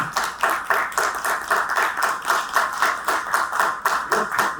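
An audience at a business storytelling show claps in a steady rhythm, with evenly spaced bursts of many hands sounding together, fairly close and without talk.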